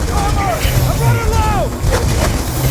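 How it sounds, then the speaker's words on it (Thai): An explosive-like gun firing in Call of Duty Black Ops 2, heavy booming blasts layered with whistling projectile sounds and rumble, loud and close, with a voice talking over the action. "ปืนนี้มันคล้ายๆเหมือนระเบิดอ่ะ ยิง ใส่"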